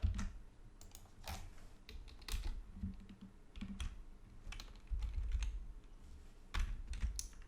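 PHP code typed on a computer keyboard, bursts of close, crisp key clicks in an uneven rhythm with short pauses.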